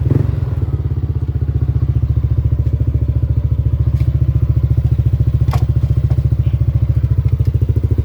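A repaired motorcycle engine idles steadily and close by, a rapid even putter with a slight rhythmic thump and some light mechanical clatter, running alone without talk.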